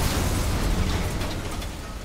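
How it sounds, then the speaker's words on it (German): Cars blow up in the video game Mafia 3, a loud, continuous rumbling burst of game explosions with dense low-end roar that fades slightly over two seconds. "Okay, die sind hier alle auf einmal explodiert."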